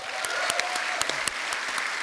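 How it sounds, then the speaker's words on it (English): A live show audience in London applauds with dense, steady clapping, individual claps popping out over the continuous patter. "Round of applause for them,"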